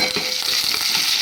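Green chillies and onions hit hot oil with tempering already in the pan, giving a loud, continuous sizzle and crackle while cooking okra sambar.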